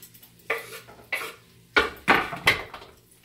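Shrimp tipped into a pan already holding Parmesan cheese, salt and pepper, giving a handful of sharp clattering knocks and scrapes of utensil on cookware, close and fairly loud with short gaps between them.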